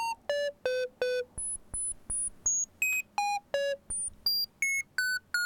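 Modular synthesizer beeps driven by a clock whose note distribution is modulated by a control voltage, giving short, evenly spaced electronic blips that hop between different pitches, clear and fairly quiet, with no voices.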